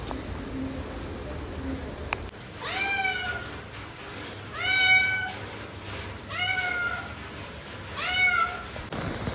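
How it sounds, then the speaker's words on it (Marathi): A stray cat that has come for cat food meows four times in a row, each call clear and drawn out with even pauses between, over a faint background hum. "हे आता आमचं मांजर नाही आहे, हे आता कॅट फूड खायला आलंय"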